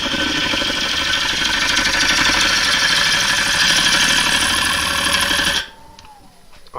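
A wood lathe spinning up to 750 RPM during lacquer finishing, a loud, steady mechanical whir with a rattling hum that holds evenly, then cuts off abruptly near the end, leaving near quiet.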